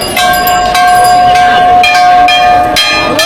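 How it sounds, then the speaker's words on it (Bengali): Temple bells ring at the Maha Kumbh gate in a steady, sustained, loud chime over a bustling crowd at a festival. "এখন ঘন্টি বাজছে আর আপনাদেরকে স্বাগত জানাবে এইবার"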